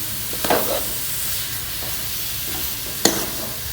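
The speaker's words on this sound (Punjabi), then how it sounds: "ਖੋਏ ਨੂੰ ਚੰਗੀ ਤਰ੍ਹਾਂ ਇਹ ਚਾਟੇ 'ਚ ਮਿਕਸ ਕਰ ਲਾਂਗੇ" Khoya is mixed by hand in a large bowl for pinni, making a soft continuous rustle with two brief knocks, no talking.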